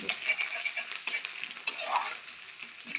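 Onion fries in a pan with whole garam masala, cumin and dried chilli, giving a steady soft sizzle with faint stirring scrapes, quiet and close.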